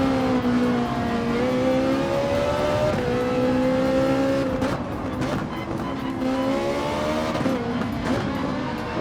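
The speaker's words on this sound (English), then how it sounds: "Upshifted quickly there to avoid loss of traction." A race car in Gran Turismo 7 pulls through its gears, engine pitch climbing and then dropping at each quick upshift, with a steady drone and faint tire noise throughout.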